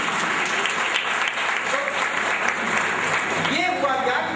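Audience applause during a spiritual talk, continuous clapping of moderate loudness with a voice speaking over it toward the end.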